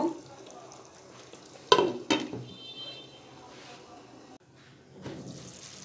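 Spices and other ingredients for a shahi chickpea dish are sautéed and stirred in a pan: a soft background sizzle broken by two sharp utensil clanks against the pan, with a voice talking throughout.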